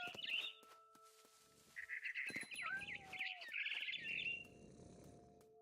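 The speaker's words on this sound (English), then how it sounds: "Then I heard chirping outside my window. It was a barn swallow going back to her nest." Bright barn swallow chirps and twittering calls from the video game What Remains of Edith Finch come in short bursts, with soft rustling noise between them and no talking.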